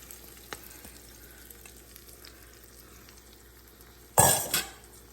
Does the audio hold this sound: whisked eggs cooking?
yes